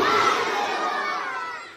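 A large crowd at an Urs gathering for Khwaja Gharib Nawaz at Jamia Seemanchal, Purnia, roars a loud, sustained collective shout in reply to a religious slogan, the voices swelling at once and slowly fading.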